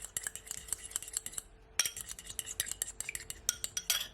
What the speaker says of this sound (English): So I'm just gonna mix it all in just a bit.